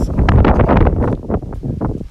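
Strong storm wind in Tokyo buffets the microphone in loud, rumbling gusts that roar and rustle unevenly throughout.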